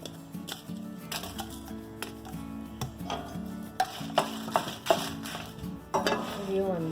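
Dried red chillies sautéed in a pan for flax seed idli powder, a soft continuous sizzle beneath repeated sharp scrapes and taps of a spatula against the metal, growing busier toward the end.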